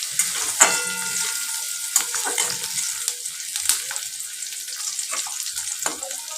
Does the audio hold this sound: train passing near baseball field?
no